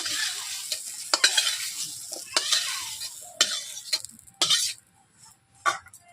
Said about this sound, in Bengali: বন্ধুরা দেখতেই পাচ্ছেন আলুগুলোকেও ভেজে নিচ্ছি।